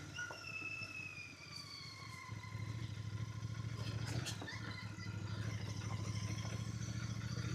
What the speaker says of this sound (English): I can feel the bike moving under the silt here